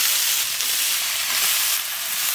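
Fresh bottle gourd hits a pan of shrimp already fried with salt and turmeric, giving a brief, close, bright hiss of sizzling that holds steady without any voices.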